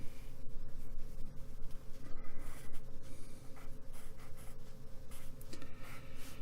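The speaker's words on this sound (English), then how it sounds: "if I draw a little circuit diagram" A pen draws a small circuit diagram on paper, making a close continuous scratching and rubbing with short strokes and pauses over a low background hum.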